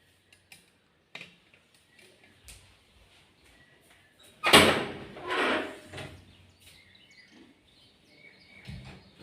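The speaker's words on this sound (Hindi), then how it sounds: "थोड़ा सा लाइट दरवाज़ा खोलते हैं" A door in a classroom setting is opened, a clear creak and clatter rising in the middle, with soft ticks and faint bird calls in an otherwise quiet room.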